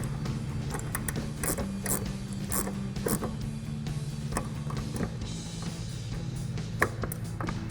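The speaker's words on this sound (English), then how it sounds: "Now we're gonna get our 14mm ratcheting wrench and a 4mm Allen and tighten this down." A 14mm ratcheting wrench tightens the top nut on a Pedders eXtreme XA coil-over shock for a 2016-2024 Camaro, giving steady metallic clicking and ratchet chatter with a few sharper knocks, close and continuous.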